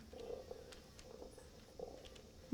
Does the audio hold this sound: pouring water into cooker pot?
no